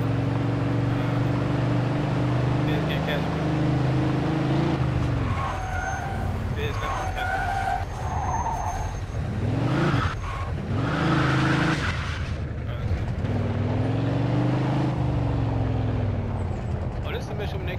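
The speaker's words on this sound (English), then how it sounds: "Pursuit of a speeding vehicle." Speeding car chase in Mafia II, engines revving and rising and falling in pitch with tire skids and passing vehicle sweeps, continuous and fairly loud, with voices talking over the driving noise.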